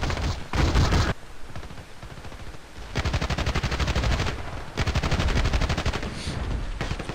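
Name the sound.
submachine gun fire in Battlefield Play4free video game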